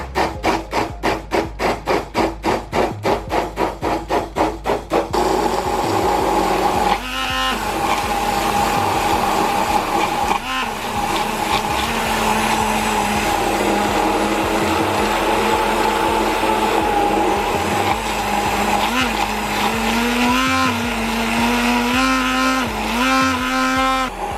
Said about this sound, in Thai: วันนี้แพทจะใช้เป็นตัวแฮนด์มิกเซอร์นะคะ ใครจะใช้เป็นเครื่องปั่นก็ได้ก็ปั่นเลย